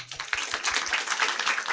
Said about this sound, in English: So big round of applause for the city of Bangalore.